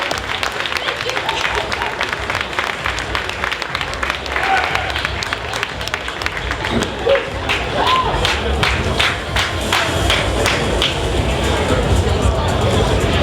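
At DreamHack Winter 2022, a cosplay contest crowd claps and cheers for the third-place winner in Monster Hunter armor, a loud, sustained roar of applause with shouts that swells toward the end, voices audible throughout.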